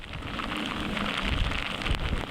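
Rain and wind from Tropical Storm Nicholas make a dense, constant hiss of downpour with gusty rushing, steady and fairly loud throughout, without talk.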